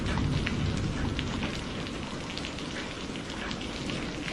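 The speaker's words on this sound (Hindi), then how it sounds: "कितनी देर से बारिश आ रही है, रुकने का नाम ही नहीं ले रही" Heavy rain pours down steadily at night outside a house, a dense, continuous patter and wash with no break and no voices.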